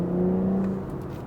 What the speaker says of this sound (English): the engine just pulls really hard no matter when, what, how